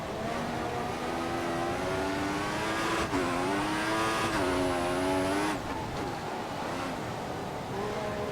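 Formula 1 cars from the F1 2014 game race flat out down a straight at the United States Grand Prix, a loud sustained high-pitched engine whine rising and shifting in pitch as several cars pass, with no talk.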